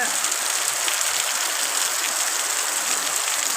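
Heavy rain pours steadily in a dense, even hiss, close and constant throughout, with no voices.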